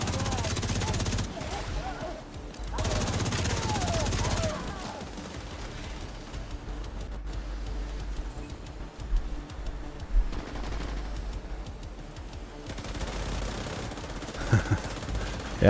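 A hostile assault turret fires in The Division 2, with stretches of rattling automatic gunfire and scattered shots under ongoing game noise, loud bursts alternating with quieter gaps while someone talks.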